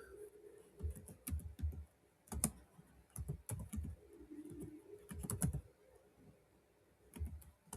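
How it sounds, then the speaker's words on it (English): Bursts of computer keyboard typing, quick irregular key clicks coming in clusters with short pauses, close and fairly quiet, no talking. "we're going to type."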